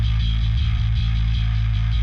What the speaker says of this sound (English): when we combine it with the clean one, it sounds like this.